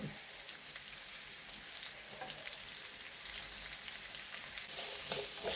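Japchae vegetables stir-fry in oil with a faint, even crackling hiss that swells slightly louder toward the end.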